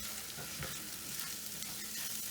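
A cilantro filling made with peanut powder, poppy seeds and ground cashews is stirred in a hot pan, giving a continuous soft sizzle with faint scraping strokes throughout.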